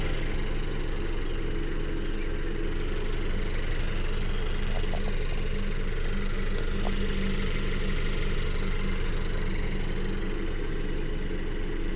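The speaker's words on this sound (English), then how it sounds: "the little direct injectors inside the combustion chamber injecting gas. That's what you're hearing." The idling engine of a 2018 Honda CR-V EX-L hums steadily up close, with a faint rapid ticking from its direct fuel injectors riding over the low rumble.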